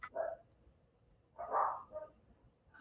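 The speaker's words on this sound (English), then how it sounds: "I apologize for my dogs." Dogs indoors bark a few times, one bark near the start and a double bark about a second later, muffled and at moderate distance, with no talk.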